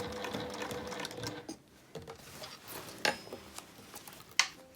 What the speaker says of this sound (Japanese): 特に厚みが出てくる部分の持ち手とか厚みが出てくる部分は少し低速にして縫っていきます